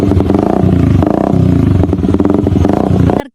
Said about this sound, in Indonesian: Berikut suara motor bersilinder satu.